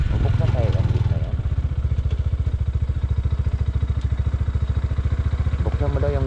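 A motorcycle engine idles close by with a fast, even, loud putter after an initial revving burst, steady and mechanical throughout; voices speak faintly at the start and end.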